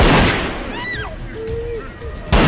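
Gunfire erupts in a scene from the 2004 horror film Saw: sharp blasts open and close the moment, while whistling tones and a tense soundscape fill the gap between.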